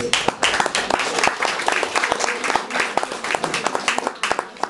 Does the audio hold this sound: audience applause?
yes